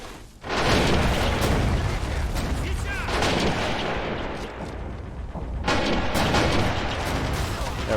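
Sustained heavy gunfire and artillery booms from Men of War: Assault Squad fill the scene as a gun position is attacked, dense and loud with barely a pause from start to finish.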